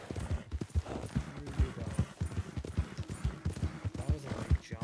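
Horse hooves clip-clop at a steady gallop in Red Dead Online, close and fairly soft, with a voice talking faintly over the rhythmic hoofbeats.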